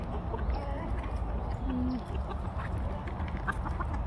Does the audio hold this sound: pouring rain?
no